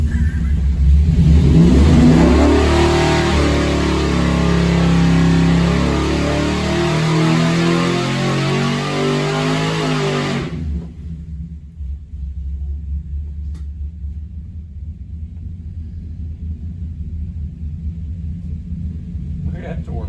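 A Mopar Big Block 400 engine with a Weiand tunnel ram intake revs hard on a test stand, a loud roaring rumble for about ten seconds before dropping to a low idle under people talking.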